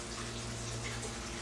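Steady rushing water flowing and draining in a flooded grow bed of an aquaponics greenhouse system, a continuous close splashing wash under a low pump hum.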